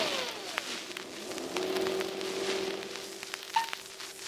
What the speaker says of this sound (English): let's put this distributor wire back on and start the car